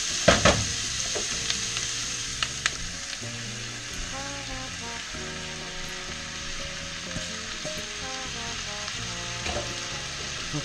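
Broccoli rabe goes into a hot pan of sausage and onions, setting off a steady close sizzle and frying hiss, with a few sharp clatters of stirring near the start and continuing softly crackling throughout, no talking.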